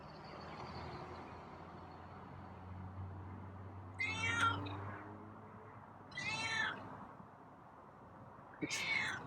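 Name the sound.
cat meowing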